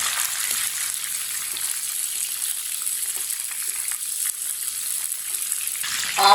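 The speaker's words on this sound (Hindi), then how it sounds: "मिर्च से ना बहुत ज़्यादा छींटे आ रहे हैं" Green chilies fry in hot oil in a pan for a chili pickle, giving a loud, steady sizzle with constant crackling spatter that continues unbroken throughout.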